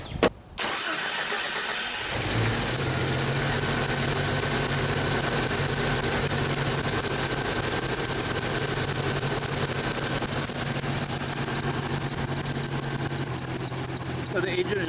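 A car engine cranks briefly and catches, then settles into a steady, loud idle that runs on alone, with no talk over it, while a battery tester is connected to the vehicle.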